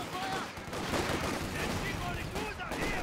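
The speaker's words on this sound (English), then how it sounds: "Oh, double LMGs pop." Two LMG machine guns opening up in Company of Heroes 2, a dense mid-distance rattle of rapid gunfire layered with other battle noise, steady and continuous throughout.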